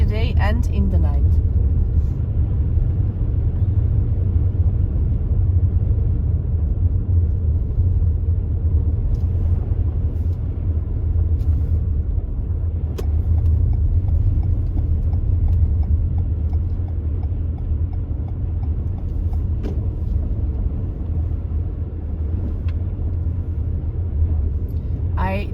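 A car drives slowly along a snow-covered road in the Lauterbrunnen valley in Switzerland, giving a steady low rumble of engine and tyres that stays loud and close throughout.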